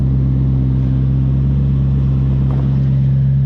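A tuned BMW 540i E39 with a custom exhaust idles close by on a mild day, a steady, even low rumble that holds constant throughout.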